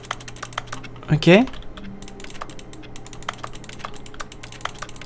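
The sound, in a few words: keyboard typing sound when touching objects, Stanley Parable Ultra Deluxe video game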